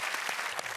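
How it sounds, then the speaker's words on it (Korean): A short burst of studio audience applause at a Korean TV comedy show, dense even clapping at moderate distance with no talking over it. "두 분에게 박수 좋습니다."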